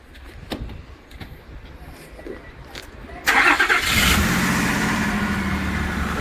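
A stone-cold car engine cranks and catches at about three seconds, then settles into a loud, steady run with a rough rumble; faint clicks and handling noises come before it starts.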